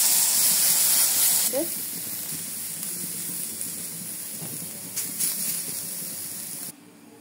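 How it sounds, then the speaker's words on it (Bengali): Red amaranth greens fry in a pan with a steady, close hiss and sizzle that fades slightly toward the end, with faint scraping and a few brief clinks. "এখন তাহলে ভাজি করে নিচ্ছি শাক"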